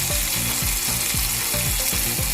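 Onions sizzle loudly in a pan, seasoned with pepper powder, for a homemade veg cheese pizza. A constant hiss of frying runs throughout, and rhythmic scraping strokes from stirring come about twice a second.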